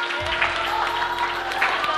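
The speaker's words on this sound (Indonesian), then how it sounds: "Wah, silakan maju ke depan, kasih tepuk tangan." Applause at a Ramadan children's show as a performer comes forward, a steady wash of clapping from a group in a room that continues evenly throughout.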